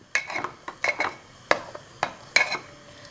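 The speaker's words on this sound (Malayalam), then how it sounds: "നന്നായിട്ട് മിക്സ് ചെയ്യുക." A spoon stirring karkidaka kanji, a Kerala rice porridge, in a metal pot, giving a handful of distinct clinks and scrapes against the side in an uneven rhythm, close and clear with no talk.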